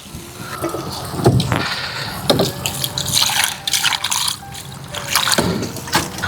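Water poured over soaked tamarind in a bowl for a Telangana-style fish curry, giving splashy bursts and drips that rise and fall in uneven pulses.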